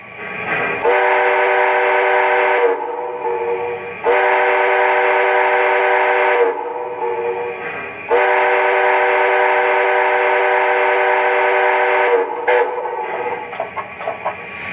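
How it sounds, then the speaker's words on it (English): The standard whistle of an MTH 2-8-8-8-2 Erie Triplex model locomotive blows loud in three long sustained blasts with brief gaps, followed by a shorter toot, with no talk. "let's check out the standard whistle first"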